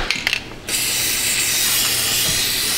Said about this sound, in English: we're gonna take and blast that down with some fluid film